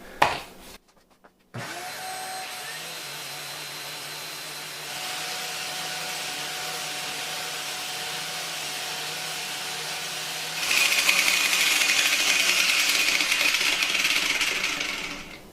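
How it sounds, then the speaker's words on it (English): A cheap Harbor Freight angle grinder with a diamond wheel grinds concrete while hooked to a shop vac for dust collection, a steady droning whine after a brief knock, rising into a harsher, louder grind partway through, with no talk. "diamond wheel for grinding the concrete here. And then, of course, dust collection system."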